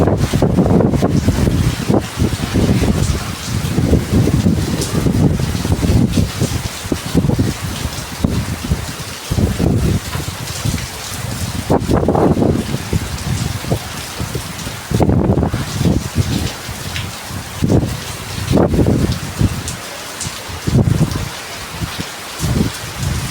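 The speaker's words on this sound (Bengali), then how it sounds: "ভীষণ হাওয়া দিচ্ছে, ভীষণ হাওয়া, এখানে থাকাই যাচ্ছে না।" Strong gusty wind of a Kalbaishakhi nor'wester storm roars and buffets the microphone in surges for over twenty seconds, with rain-like rushing noise mixed in and no talk.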